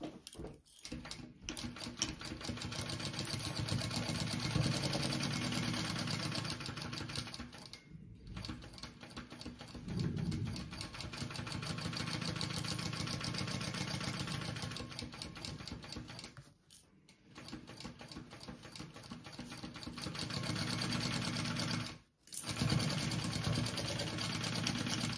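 A sewing machine stitches a fabric bag in quiet, rapid mechanical bursts, running several seconds at a time and pausing briefly between runs, with no speech.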